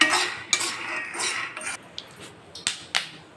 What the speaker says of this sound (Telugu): పల్లీలు కూడా అదేవిధంగా వేయించుకోవాలి